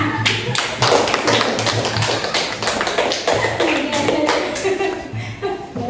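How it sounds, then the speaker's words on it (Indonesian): A small audience at a school academic coaching session claps for a top-scoring participant, with brisk, uneven hand claps close by and a few sharper individual taps over a low hum. "Tepuk tangan dulu untuk Andika."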